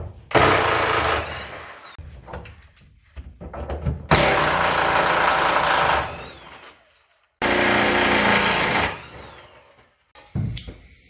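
An impact wrench or air tool undoing the bolts on a car's rear K-member, in three loud bursts of hammering rattle separated by pauses, close up.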